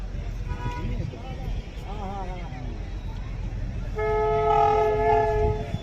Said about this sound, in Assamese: 3টা ডবা ট্ৰেইন আহি আছে, এইপিনে আহিব।